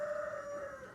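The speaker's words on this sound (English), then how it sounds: "just like you see my studio right now in the background, live poultry birds" A rooster crows steadily in the background at a poultry farm, a short sustained call heard fairly faintly behind a room setting.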